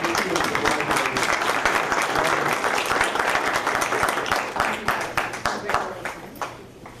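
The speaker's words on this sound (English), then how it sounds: "let's all give them a round of applause." Parents stand as a school board meeting audience applauds them: a sustained burst of clapping from a room full of people, fairly loud and even, with faint voices mixed in and the applause thinning toward the end.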